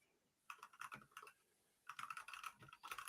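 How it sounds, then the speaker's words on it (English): Someone types on a computer keyboard in two quick bursts of rapid clicking key presses, separated by a short pause, fairly faint and close. "you can hear him clickety clacking over there"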